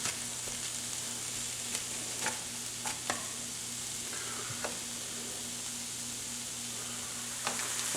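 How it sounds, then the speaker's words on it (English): Onions frying down in a pan for stuffed bell peppers, a steady soft sizzle and crackle running throughout with a faint low hum and occasional small pops, no voices. "we're going to cook this down until the onions are brown"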